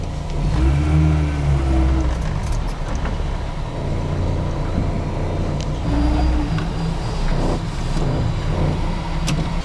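A car pulls away and accelerates, its engine note rising with steady road noise and faint higher tones above, loud and close throughout with no talk.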